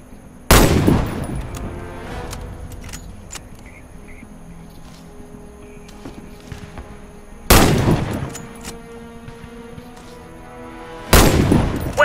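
Sniper rifle shots at targets in the video game Warface: three loud, sharp cracks spaced several seconds apart, each with a short echoing tail, over a quiet game background.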